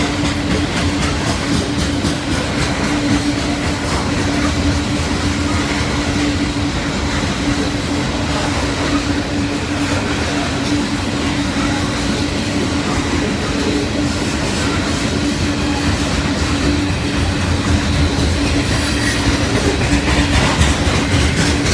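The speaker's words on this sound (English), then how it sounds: "now we got a loaded coal train" A long loaded coal freight train rumbles past close by, wheels clacking steadily over the rails with a constant droning roar and occasional metallic squeal.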